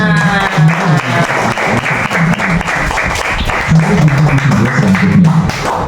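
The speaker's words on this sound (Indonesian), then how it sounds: "Tepuk tangan." Schoolchildren clapping in a classroom, a dense rhythmic patter lasting throughout, with a voice talking over it in places.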